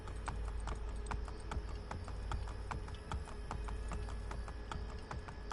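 Horse hooves clip-clopping in the video game Assassin's Creed Brotherhood, a steady rhythmic trot of sharp taps over a constant low rumble of ambient game sound, with no voices.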